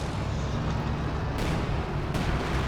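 Stuka dive bomber strike in Company of Heroes 2, a loud rumbling blast with a thick low-end roar and sharp bursts of debris, sustained and close over battlefield noise.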